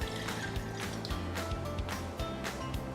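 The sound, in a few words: pouring a cup of water into a pot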